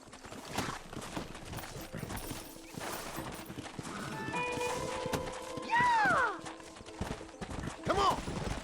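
Horse hooves clip-clop in the Western video game Red Dead Redemption, a steady clatter heard under ambient game music with tonal swells, plus a brief whinny-like sweep near the end.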